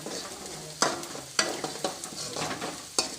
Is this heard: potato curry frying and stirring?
yes